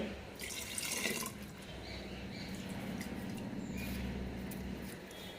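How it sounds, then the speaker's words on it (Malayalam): Water poured into a bowl of idli batter, a soft steady trickle and splash running throughout, close and moderately quiet, with faint background noise. "ഇതിലേക്ക് കുറച്ചുകൂടി വെള്ളം ഒഴിക്കുന്നുണ്ട്."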